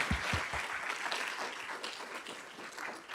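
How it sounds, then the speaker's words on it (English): An audience applauds during a university president's homecoming address. The clapping is distant and fairly quiet, a diffuse, even wash of many hands that lasts the whole three seconds. "let's clap for that"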